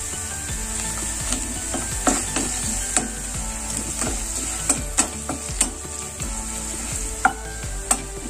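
Thinly sliced onions with turmeric sizzle and fry steadily in oil, with repeated sharp scrapes and clacks of a spatula stirring the pan close by.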